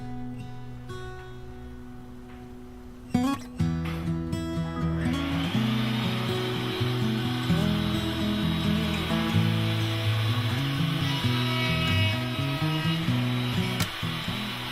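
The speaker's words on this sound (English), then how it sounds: "Clamp 2 pieces of square cut scrap stock to the right angle fixture and make the first cut." A saw cuts through square scrap stock clamped to a right-angle fixture on an Incra LS positioner, the motor whine spinning up and then a sustained, loud cutting sound holding steady for about ten seconds.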